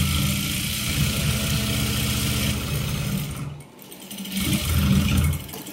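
A sewing machine joins silk skirt panels for a girl's pavadai with a steady motor whir, dips briefly, then picks up again. The sound is loud and close.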